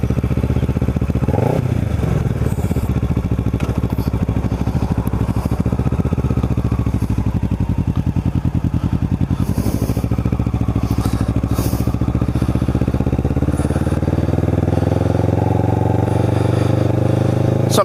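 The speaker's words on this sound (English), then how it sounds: "let me turn the bike on and get started" A motorcycle fires up and settles into a steady, loud idle heard up close for the whole stretch, with a bit of mechanical clatter near the start, just before a ride from North Cape May to Cape May.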